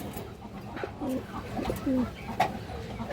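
Pigeons near at hand give soft, low coos, a few separate calls in quick succession against faint background noise.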